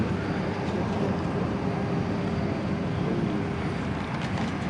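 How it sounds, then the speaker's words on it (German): Inside an airplane cabin on a flight to Berlin, a steady, dense engine roar and air rush fills the space at an even level throughout, with no talking. "So, jetzt sind wir im Flugzeug drin."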